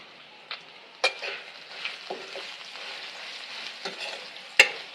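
Ivy gourd and peanuts fry with a steady, soft sizzle in a pan while a spoon stirs them, giving a few sharp scraping knocks against the metal over the continuous hiss.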